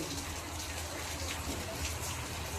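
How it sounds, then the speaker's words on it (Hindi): Morning rain falls steadily in Gwalior, a soft, even patter and hiss heard faintly at a distance, with no talk. "बिल्कुल सुबह का टाइम है और बारिश हो रही है।"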